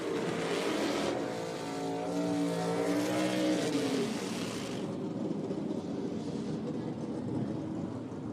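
A drag racing car roars down the strip at an IHRA event at National Trail Raceway, loud and steady with rising harmonic engine tones as it shifts up through the gears, then settling into a broad sustained roar.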